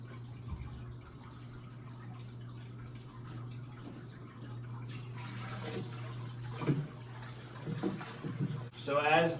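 Water draining out of a fish tank into a bucket during a water change: a soft, steady trickle and splash under a constant low pump hum, with a person speaking briefly and a few clunks near the end.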